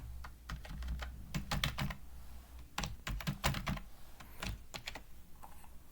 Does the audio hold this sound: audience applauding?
no